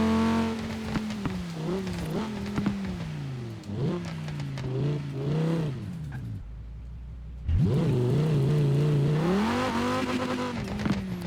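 A Cyberpunk 2077 car in Forza Horizon 4, a five-cylinder engine droning and rising in pitch through the gears, a brief lull between shifts, then revving hard again with tire noise, loud and close.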